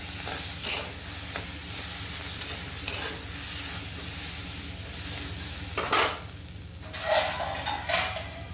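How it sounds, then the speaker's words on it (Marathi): Green chillies being stirred in hot oil in a pan for thecha, a steady sizzle with scraping stirs and a few louder clanks of the spoon against the pan, fairly close. "तेल टाकायचं आहे व हलवून घ्यायचा आहे यांना चांगला हलवायचा आहे"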